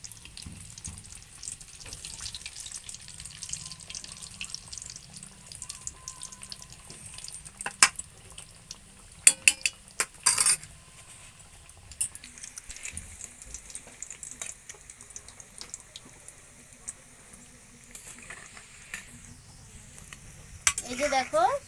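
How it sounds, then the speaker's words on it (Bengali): Chicken cutlets frying over low heat in a home kitchen pan, a steady soft sizzle with occasional clatters of turning and stirring and a brief splash of running water near the end. "একদম হালকা হালকা জ্বালন দিয়ে এগুলোকে ভেজে নেবে উল্টে পাল্টে।"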